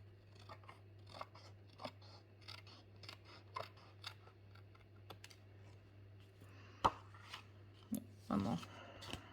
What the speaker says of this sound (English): This 3-layer piece is quite thick, but not too bad to cut.